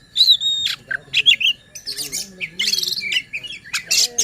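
A kacer, or magpie robin, sings in a varied run of loud, close whistles, squawks and chirps in quick bursts, with short pauses between phrases.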